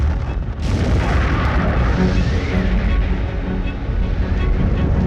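A huge vapor cloud explosion at an industrial site sends a sustained, loud roar and rumble across the whole stretch after a sharp onset, like a deep, continuous blast wave rolling outward.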